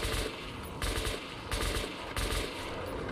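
Automatic fire from the player's weapon in Metro 2033 Redux, three or four sustained bursts with short gaps, each a dense rattle of close shots.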